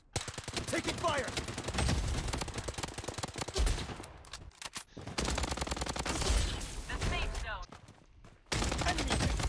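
Sustained automatic gunfire in the shooter game Blood Strike rattles in dense, continuous bursts with a couple of brief pauses, loud and close throughout.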